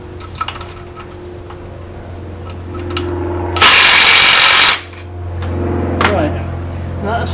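Work on bolting an AJ30 engine to an RX8 gearbox brings a loud, steady power-tool whir lasting about a second, close to the mic, set between quieter workshop handling sounds and a low hum.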